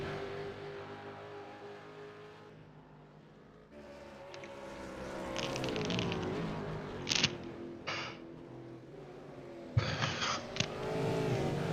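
V8 race cars from the Supercheap Auto East Coast V8 series race at Bathurst, their engine drone steady and loud with several sharp passing surges and revs building and fading throughout.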